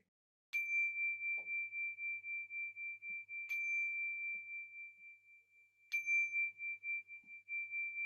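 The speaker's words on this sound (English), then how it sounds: "So I'll just ring this bell to" A meditation bell is struck three times to close a mindfulness session, each clear ring with a bright attack and a long sustained tone fading slowly between strikes, with quiet room sounds underneath.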